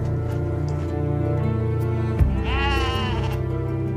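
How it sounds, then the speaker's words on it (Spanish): Sheep in the Scottish Highlands bleat over a steady low outdoor rumble, with one clear, wavering bleat standing out near the end. "Hay 7 millones de ovejas en Escocia masticando plantas"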